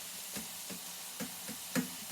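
Frozen beef mince and onion frying in a pan, a soft steady sizzle broken by a few light stirring knocks and scrapes, close and fairly quiet.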